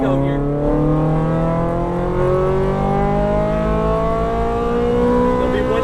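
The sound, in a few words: exotic car accelerating at full power on race track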